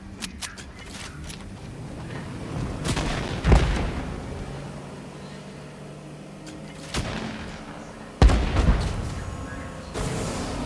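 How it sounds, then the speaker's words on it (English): Gunshots in the Fortnite video game ring out as a few loud, sharp cracks spaced several seconds apart, each trailing off over a low, steady game background. "I don't know where you're shooting at"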